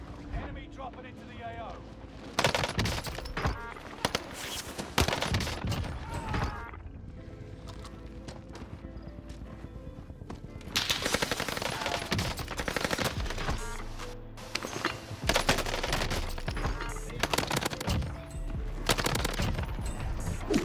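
H4 Blixen submachine gun firing in Warzone, sustained rapid automatic bursts alternating with quieter stretches, with a voice talking over parts.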